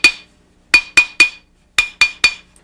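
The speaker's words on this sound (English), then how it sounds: "turn the ring and hammer it up from both sides" Metal hammer striking a jewelry ring on a mandrel to stretch it up about three sizes, worked from both sides: seven sharp bright ringing taps, one alone then groups of three, close and loud with quick decays.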